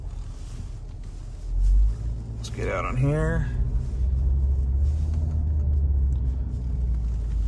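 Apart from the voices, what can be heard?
2013 Ford Focus driving on paved country road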